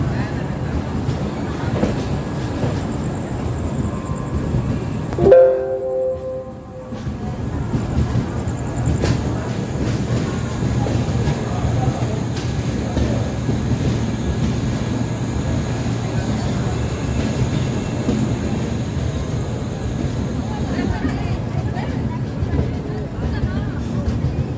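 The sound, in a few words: express train halted at Patna Junction station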